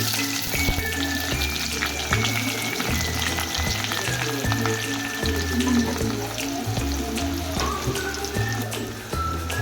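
Onions, cumin and mustard seeds fry in hot oil in a pan for a Marathi drumstick curry, giving a steady crackling sizzle with scattered pops at moderate volume and no voices.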